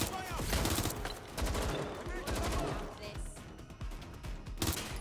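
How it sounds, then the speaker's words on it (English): Rapid bursts of gunfire in the video game Watch Dogs Legion, loud and close, with overlapping shots across the whole clip and a voice speaking briefly among them. "Shots fired!"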